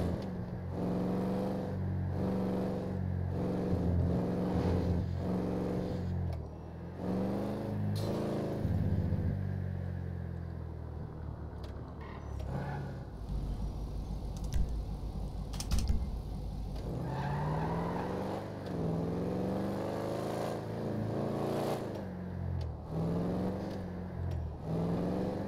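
A fast car in the video game GTA, engine revving up through repeated gear changes with rising and falling whine, rattling mechanical noise and tire skids in between, loud and close throughout.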